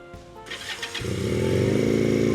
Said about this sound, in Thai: สตาร์ทติดทีเดียวรู้เรื่องเลยนะครับผมเจ้าคันนี้